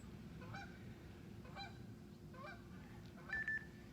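Several goose honks repeat roughly once a second over a constant low hum, with a slightly louder honking burst near the end.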